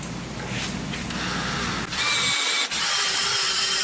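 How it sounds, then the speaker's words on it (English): A power drill with a 1/2-inch bit grinds steadily through metal, boring out a bushing hole on a Jeep Cherokee XJ, with a high whine and two brief pauses in the cutting. "I'm going to take a 1/2-inch drill bit and I'm going to go ahead and drill all this out"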